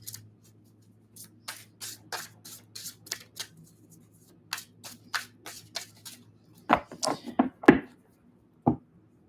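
Soft rhythmic riffling and tapping of tarot cards being shuffled, a series of quick, close taps followed by a few sharper snaps, with a low hum underneath.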